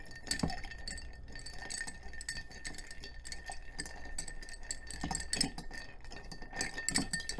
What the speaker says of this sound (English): you're just trying to, as much as possible, just move the ice around the stirring glass without really disturbing it